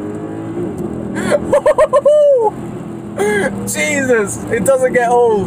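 A Mercedes C63 AMG (W204) with a 6.2 litre V8 sending 450 horsepower to the rear wheels revs hard in short bursts, while someone speaks excitedly over the engine.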